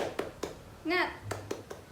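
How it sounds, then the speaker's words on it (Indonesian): A fifth-grade class in an Indonesian classroom does a rhythmic clap chant: a few sharp, evenly spaced hand claps with a short sung or shouted vocal burst in the middle, fairly quiet and close. "Tepuk semangat."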